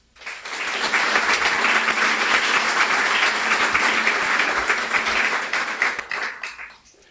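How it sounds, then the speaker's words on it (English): A guide-dog class graduation audience breaks into a warm round of applause, a dense, steady crowd clapping that swells quickly, holds strong for several seconds, then fades out. "A warm round of applause"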